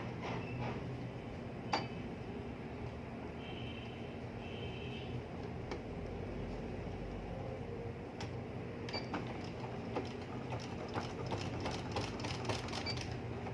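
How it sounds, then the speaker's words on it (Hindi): Sewing machine stitching trouser fabric, a quiet mechanical whir with fast ticking stitches that speed up into a dense run toward the end. "आपने कपड़े को हल्का हल्का सा अंदर की तरफ करना है और सिलाई लगानी है"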